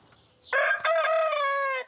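Maurice the rooster on the Île d'Oléron gives a single loud, close crow lasting over a second, with a short rising note before the long harmonic call.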